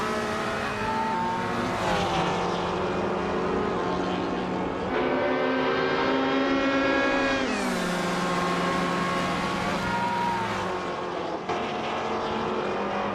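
Race car engines in a racing video game, a loud continuous roar that rises and falls as the cars rev, shift gears and accelerate, heard close without pause.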